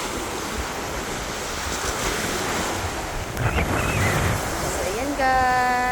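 Steady sea waves and gusting wind at a pure beach resort near Dumaguete, a continuous broadband wash of surf with wind noise across the microphone, and a brief tonal whistle-like sound near the end.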